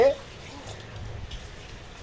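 Rain falling on a stormy morning makes a steady, even wash of hiss, with a voice briefly heard at the start.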